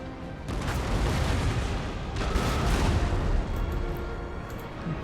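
Cannon artillery opening fire in Napoleon: Total War: a rumbling barrage of booms rolls across the battlefield, rising around the middle and fading slightly by the end, loud and continuous with no talking.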